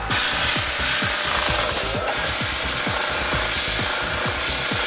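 An inflatable drum sander works a curved wood piece, giving a loud, steady rubbing roar with a rapid repeating low thump as the drum spins against the wood, all the way through.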